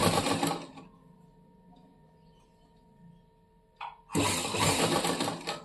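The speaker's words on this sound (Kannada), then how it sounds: "ಒಂದು ಕಡೆ ಸೈಡ್ ತಿರುಗಿಸ್ಕೊಂಡು ನೀಟಾಗಿ ಸ್ಟಿಚ್ ಹಾಕಬೇಕು." A sewing machine stitches a cross belt onto a blouse: a loud, fast mechanical whirring burst at the start, a near-silent pause with faint hum, then another steady run of rapid stitching.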